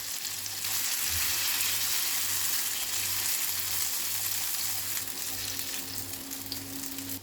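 Ridge gourd slices frying in shallow oil in a pan over low to medium flame, a continuous dense sizzle with steady crackle, close and loud, with a faint pulsing hum underneath and no talking.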